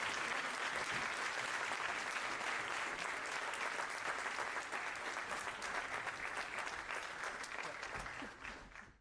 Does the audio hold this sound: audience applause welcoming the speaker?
yes